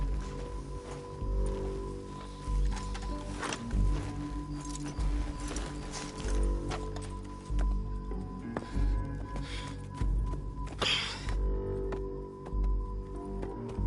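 Horse hooves clip-clopping at a steady walk in Red Dead Redemption 2, a soft repeated patter under rustling and faint ambient game sound, with no talk.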